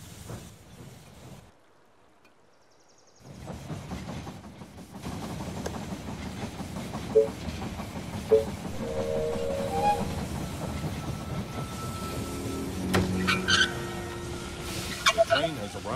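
In the strategy game They Are Billions, a train rolls into a station with rhythmic clickety-clack wheels, brake hiss and a brief whistle, while game voice lines play over it.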